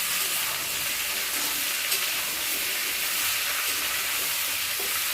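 Pointed gourd, potato, eggplant and pumpkin fry in a pan with a loud, steady, close-up sizzle and hiss that carries on without a break and with no voices.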